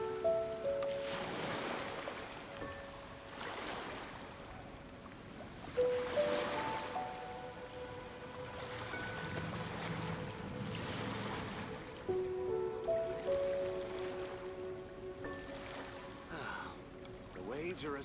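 Gentle ocean waves in the Genshin Impact video game wash in soft, regular surges under layered game music and a speaking voice, moderately quiet throughout.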